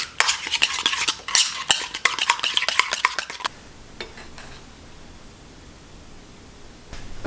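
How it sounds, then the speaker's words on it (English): Spicy burger sauce ingredients are mixed vigorously in a bowl, a fast, loud clatter of spoon scraping and clinking for a few seconds, then near silence broken by a few faint taps. "So that means half. And I mix this thoroughly."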